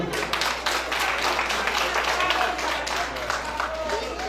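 An audience at a Guinean community inauguration ceremony applauds, a steady crowd of clapping hands sustained throughout, with a low hum beneath and some voices mixed in.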